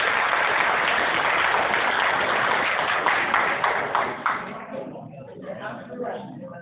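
An audience at a community event in Jagadhri, Yamunanagar claps for an Asian champion, a dense burst of applause that thins into scattered claps and fades toward the end.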